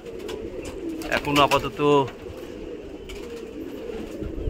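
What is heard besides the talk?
pigeons cooing and fluttering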